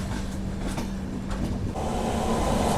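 Low, fairly faint rumble of a train pulling out of Vijayawada Junction, a smooth rolling drone with a faint steady hum above it and no voices.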